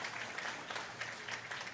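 A church congregation applauds in a faint, continuous patter of many hands, heard at a distance with no voices rising above it.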